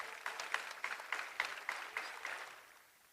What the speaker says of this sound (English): May you please have a round of applause for them.